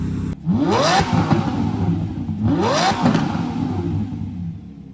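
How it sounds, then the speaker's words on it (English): Old car engine revving after warming up, two strong throttle blips that climb quickly and fall back, each followed by a rough, loud idle, heard up close with no talk. "Once he warms up, we'll get a bit of a rev."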